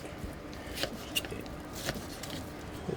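A knife cuts through long-simmered meat with soft cartilage at an Okinawan restaurant, giving a few faint soft squishy slices and light taps against the board, quiet and close.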